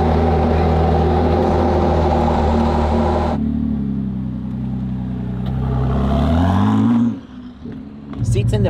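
A Ford GT with a V6 engine runs loud and close, a steady deep drone that drops after a few seconds, then rises and swells again before cutting off sharply, with speech over parts of it.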